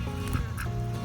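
Ducks approaching at a park give a few short quacks and honks over a low steady background hum, faint and brief.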